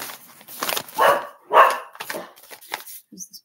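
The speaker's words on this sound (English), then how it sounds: "He barks at every neighbor." A dog that barks at neighbors gives several sharp barks in quick succession, close and fairly loud, with a soft whimper-like sound near the end.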